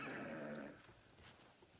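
A horse in a video game whinnies in one strong, bright call through the first half, then fades into quieter background ambience with no talking.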